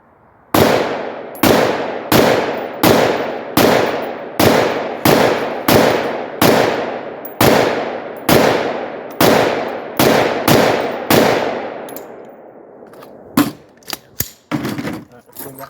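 A short-barrel 11.5-inch rifle fires Defender frangible .223 rounds in a rapid string of about a dozen loud, close shots with ringing echoes, followed by a few more cracks and brief voices at the end.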